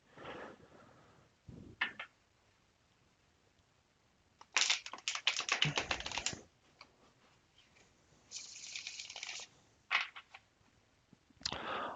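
Tarot cards riffle shuffled in short bursts, a quick fluttering riffle of the deck followed by softer handling and card taps, close and fairly quiet, with pauses between the shuffles.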